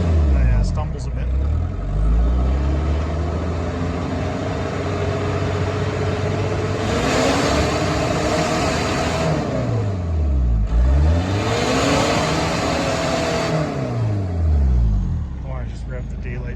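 A Mitsubishi Pajero 2800 engine that sat unused for years, running rough and being revved hard twice, the pitch climbing and falling in long sweeps over a steady idle, close and loud.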